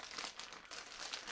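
Cheap scissors struggle through a plastic mailer package, giving close, continuous crinkling and crackling of plastic for about a second, with no speech.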